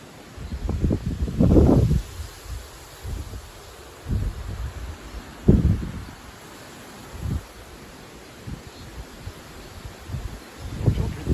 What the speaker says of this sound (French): Donc voilà, un grand vent pour la saison.